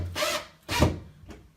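Screws driven into wood with a power driver, heard as two loud whirring, grinding bursts and a fainter third, each lasting a fraction of a second, with no talking.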